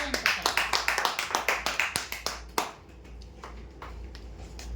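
A small group claps for a prize-draw winner, a brisk burst of hand claps that thins out after a couple of seconds into quiet room noise, with a steady low hum underneath.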